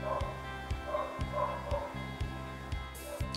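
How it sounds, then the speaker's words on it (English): A neighbour's dog barks repeatedly from nearby, sharp woofs in a steady rhythm roughly every half second, over a low constant hum indoors. "That's the neighbour's dog."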